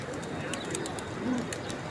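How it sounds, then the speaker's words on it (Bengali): A large flock of pigeons being fed gives soft cooing and fluttering over a steady outdoor murmur, fairly faint and continuous with no speech. "হাজার হাজার কবুতর এই যে বিভিন্ন দেশের হাজ সাহেবগণ খোঁজ করতে এসে তারা কবুতরকে খাবার দেয়"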